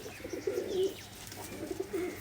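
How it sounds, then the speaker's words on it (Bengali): An imported male Jiriya Mundi Shada pigeon coos close by in two soft, throaty rolling phrases separated by a short pause, with no talking. "দেখুন জিরিয়া মুন্ডি সাদা নর পায়রা"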